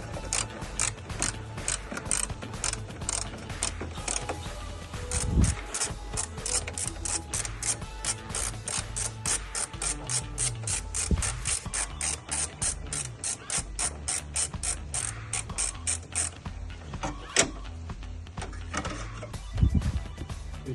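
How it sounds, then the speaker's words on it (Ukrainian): A hand ratchet clicks as it loosens hex bolts on a Nissan Altima during an air-conditioning radiator replacement, a long run of close, fast, even pawl clicks with a few heavier knocks, and no speech. "відкручуємо всі кріплення."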